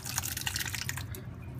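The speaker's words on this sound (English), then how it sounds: "just grab your pot and put the entire thing through the strainer" Persian ab-goosht (dizi) stew poured from a pot through a strainer into a bowl, a steady close liquid splashing and dripping that runs continuously throughout, then thins slightly near the end.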